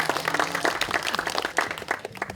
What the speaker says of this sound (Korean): 큰 박수를 한번 다시 부탁드리겠습니다.